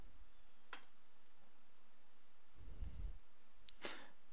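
Two sharp computer mouse clicks, one near the start and another near the end, pick through CNC nesting software in a quiet room, with a brief soft low thump between them.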